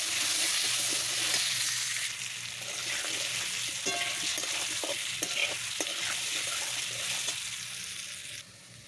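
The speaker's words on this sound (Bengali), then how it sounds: "তেলটা গরম হয়ে গেছে, এখন আলু দিয়ে নিছি। আলুটা একটু ভাজা ভাজা করে নেব।" Potato pieces sizzle in hot oil in a pan, making a continuous crackling fry with intermittent scraping and stirring clicks, heard close and steady for several seconds.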